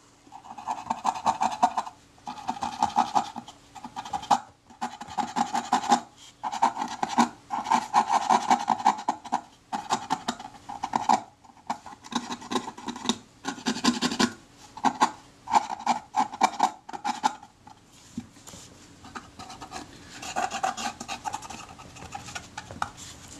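A cotton bud dampened with lighter fuel rubbed over a corroded part of a Kodak Retina IIa camera, giving repeated close scratchy strokes in bursts with short pauses between them.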